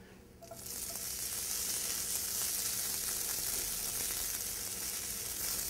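Shredded potatoes for hash browns drop into a hot pan and burst into a steady, bright, hissing sizzle that holds evenly and close.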